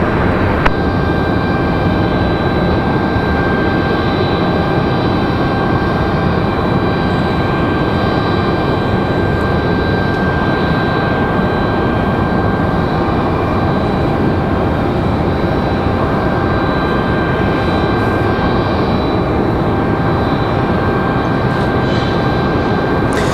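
An airliner landing on runway 23 left at Raleigh-Durham International Airport gives a steady, loud, broadband jet roar that holds unbroken for the whole stretch, with a faint high whine over it and no talk.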